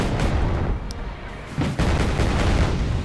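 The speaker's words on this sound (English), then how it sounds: "Now we have Cobras firing at us." Cobra attack helicopters firing in the video game Wargame: AirLand Battle, with loud booming bursts and a sharp impact, a brief lull, then another heavy rumbling volley.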